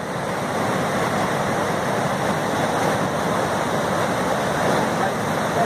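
Water rushes over the spillway of the Anagé dam in Brazil, a steady, loud, unbroken roar like a waterfall that holds its level throughout with no voices heard.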